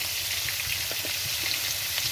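Potato and eggplant frying in a pan give a steady, close sizzle and crackle that runs the whole stretch, with a few soft stirring scrapes and no voices.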